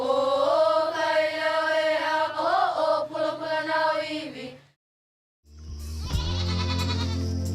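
Goats bleat loudly and repeatedly on a farm, long wavering cries filling the first few seconds, then a brief silence before a harsher, noisier burst of bleating and movement close by.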